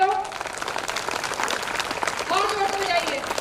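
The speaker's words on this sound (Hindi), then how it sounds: "बजाइए जरा जोरदार तालियां पहले तो" Audience applause at a school annual day celebration, a broad wash of clapping from a crowd, with voices and faint music tones mixed in over it.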